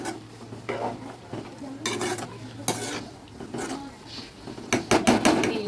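Chicken curry stirred in a pot on a medium flame: a spoon scrapes and clinks against the metal in irregular bursts, with faint background noise and a few louder clanks toward the end.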